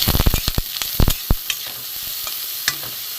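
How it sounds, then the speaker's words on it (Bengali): Peeled brinjal fries in a pan with a steady sizzle, while a spatula scrapes and clinks against the metal in a quick cluster of sharp knocks early on. The frying settles into a quieter hiss with an occasional tap. "বেগুনটা একটু ভাজা হোক ভালো করে।"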